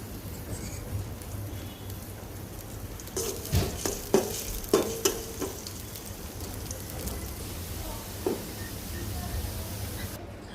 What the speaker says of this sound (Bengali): এখন পেঁয়াজ রসুন দিয়ে বাগার দিয়ে দিব